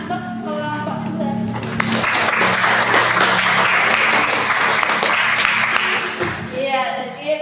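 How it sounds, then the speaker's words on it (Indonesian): A school class applauds a student group after its presentation on reducing plastic waste: a dense, steady patter of many hands lasting several seconds, with voices and a teacher's talk around it. "Jadi tepuk tangan untuk kelompok 2."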